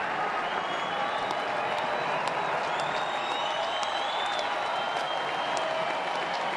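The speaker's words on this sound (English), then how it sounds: "Well, the crowd getting into it a little bit." A crowd at a baseball game between the Red Sox and Twins cheers and applauds in a steady, sustained roar, with a few sharp whistles rising above the crowd noise.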